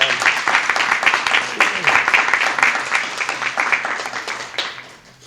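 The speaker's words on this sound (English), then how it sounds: "If we could give her one more hand for what she's" Conference audience gives a warm round of applause, dense clapping that fades out toward the end with a little crowd noise.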